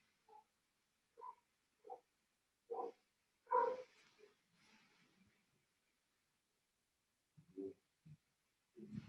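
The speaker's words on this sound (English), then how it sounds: "That's my dog in the background." A dog barks repeatedly somewhere in a house, faint short woofs in a loose series with quiet gaps between them.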